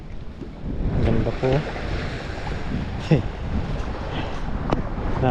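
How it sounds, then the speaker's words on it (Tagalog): Ocean waves surge and break on a sandy shore under steady wind, a continuous rushing wash with a few stronger crashes, while a person speaks briefly over it. "Nakakamiss yung ganitong tunog ng mga hampas ng alon."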